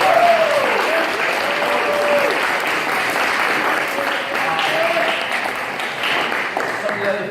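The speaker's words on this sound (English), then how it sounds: "So give yourself a round of applause." A crowd at a holiday party applauds loudly and steadily for several seconds, with clapping filling the room and a few voices and cheers mixed in.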